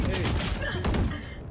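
Rapid gunfire in a shooter video game rattles in quick bursts for just over a second, close and fairly loud, with a voice mixed in.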